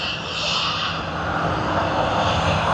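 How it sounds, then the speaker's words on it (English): Malaysia Airlines flight MH250 jet taxiing at Sydney Airport after pushback, a steady broadband engine roar with a high whine, continuous and fairly loud throughout, no voices. "We do see MH250 out there that has just pushed back and is going to be taxiing"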